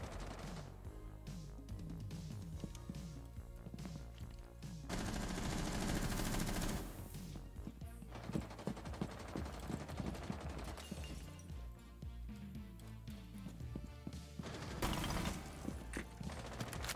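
Gunfire from the operator Alibi's weapon in the video game Rainbow Six Siege, rapid automatic bursts rattling repeatedly and loudly, with brief pauses between volleys.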